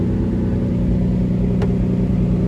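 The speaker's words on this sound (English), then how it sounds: "right now you can hear the tone of the engine has changed" A 1999 Lamborghini Diablo Roadster engine idles steadily near 1100 RPM, a deep, even rumble with a low throbbing pulse that runs loud and unbroken, with no voices.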